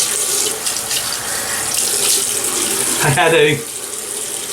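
A tap runs steadily into a sink as water is splashed onto the face before a shave, a close continuous gushing stream with a brief spoken sound near the end.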